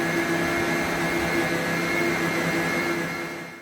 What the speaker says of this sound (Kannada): 20-25 ಸೆಕೆಂಡು ಮಿಕ್ಸಿ ಆನ್ ಮಾಡಿ ಬಿಡಿ.